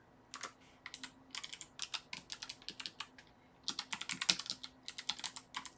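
Keys clatter on a computer keyboard in quick uneven bursts with short pauses between words, close and crisp, with no talking.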